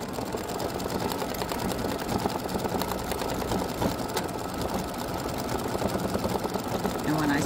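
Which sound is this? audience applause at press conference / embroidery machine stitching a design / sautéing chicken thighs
embroidery machine stitching a design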